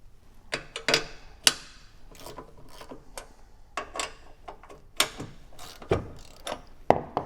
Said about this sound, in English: then you're going to loosen up these two bolts to adjust your skid shoe